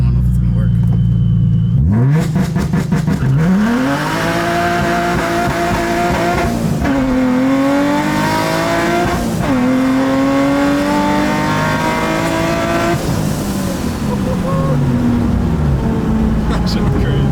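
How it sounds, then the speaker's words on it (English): Supercharged Infiniti G35 pulling hard from a stop, its engine and supercharger whine climbing through the revs, with sharp breaks at each gear shift and the pitch rising again in several strong, loud pulls. "I waited until it gripped before I went to the second gear."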